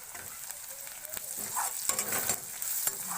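Onion and garlic fry with turmeric in a pan, a close sizzle that grows louder midway as a spoon stirs, scraping and clinking against the pan.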